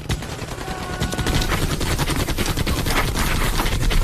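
Rapid machine gun fire rattles continuously in dense bursts, loud and close, amid a noisy battle backdrop.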